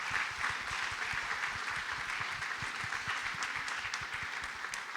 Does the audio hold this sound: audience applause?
yes